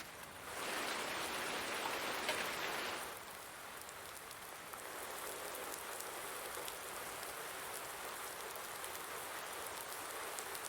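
Steady rain falls across a farm map in a simulation game, a continuous broadband hiss that swells louder for the first few seconds and then settles into an even, moderate patter with no voices.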